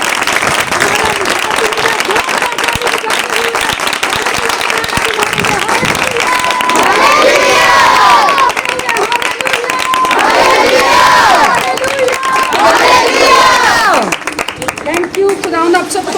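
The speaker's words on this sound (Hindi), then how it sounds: "आइए यीशु मसीह के लिए भरपूर ताली बजाएंगे।" A women's church congregation claps loudly for Jesus Christ at a meeting in Shakrial, Islamabad, with dense sustained applause and scattered cheers and shouts rising and falling in waves.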